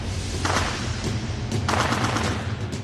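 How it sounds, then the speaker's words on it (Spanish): A burst of gunfire near a presidential palace, loud rapid shots cracking in clusters with a dense, echoing roll. "empiezan a sonar disparos cerca del Palacio Presidencial"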